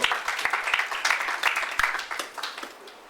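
A church congregation claps after a Bible reading, a moderately loud burst of hand claps that swells and then gradually thins out toward the end.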